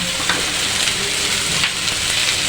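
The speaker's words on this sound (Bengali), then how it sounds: "গ্রেট করে রাখা মিষ্টি কুমড়াগুলি দিয়ে দিব" Grated sweet pumpkin sizzles steadily in a frying pan, a dense continuous hiss with soft crackles throughout, close and fairly loud, no voices.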